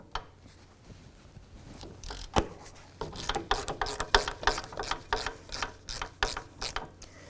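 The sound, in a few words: ratchet with 15mm socket loosening Volvo brake mounting bolts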